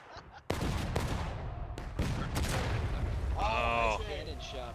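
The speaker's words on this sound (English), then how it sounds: "Oh. Cannon shot right into a tree." A cannon shot in the War of Rights game, set on the Hagerstown Turnpike map, lands with a sharp loud boom into a tree and then rumbles on. Several more thuds and crackles follow, with a brief voice near the end.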